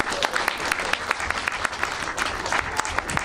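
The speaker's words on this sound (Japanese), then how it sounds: "今一度大きな拍手をお願いいたします。" An audience at the Shuri Castle Park New Year 2022 Ryukyuan performing arts show applauds traditional performers with dense, steady clapping that holds evenly, with crisp individual claps standing out from the wash.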